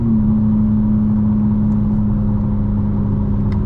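A 2025 BMW M4 Competition xDrive holds a steady, loud engine and exhaust drone with a strong low hum, rumbling continuously without pauses and heard through wind noise.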